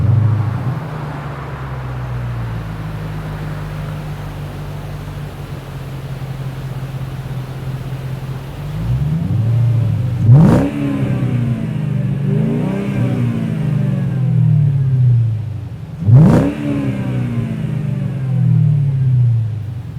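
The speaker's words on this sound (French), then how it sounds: "l'échappement de cette voiture n'est pas compatible avec le voisinage mais également un peu trop propice aux migraines" A Mercedes CLK500 revs hard through a loud exhaust, with a steady rumbling idle giving way to two sharp throttle blips and deep, swelling engine roars up close, with no talking.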